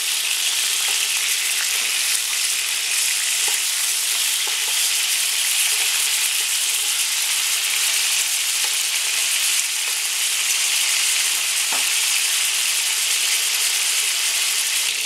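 Beef pieces browning for a Greek stifado give off a loud, continuous sizzle in a hot pan, with a few light scrapes and clicks of turning the meat scattered through, and no voices.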